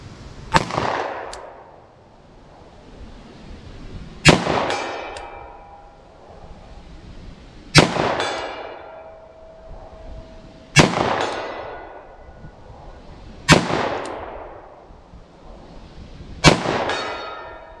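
A revolver fires hard-cast 10mm semi-wadcutter hand loads outdoors, six sharp shots spaced roughly three seconds apart, each a loud crack with a ringing tail and echo.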